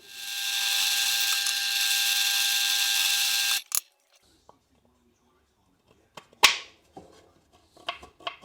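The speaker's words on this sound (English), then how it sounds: "I'll just go and mark out the other end, and I'll drill a few holes." A power drill bores holes into a wooden router table fence, its loud, steady whine lasting a few seconds before cutting off, followed by scattered light workshop knocks and clicks.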